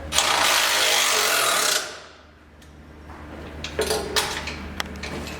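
Mounting bolts on a Toyota Troopy wheel carrier are tightened with a power tool: a loud, steady mechanical whir for a couple of seconds cuts off, then a few sharp clicks and clanks of metal close by.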